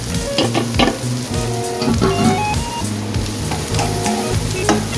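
Carrots, celery, red pepper, ginger, garlic and yellow onions sauté in a rondeau, giving a steady, close sizzle with bursts of stirring and utensil scrapes against the pan, and no talk.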